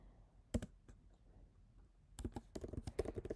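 Keyboard shortcuts typed on a computer keyboard, a single click followed by a pause, then a quick burst of several sharp key presses, close and fairly quiet.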